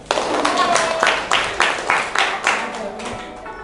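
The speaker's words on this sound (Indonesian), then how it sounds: "Ya, tepuk tangan." A small group claps hands during a classroom lesson on tayammum, about eight to ten sharp, fairly close claps in an uneven rhythm with voices underneath.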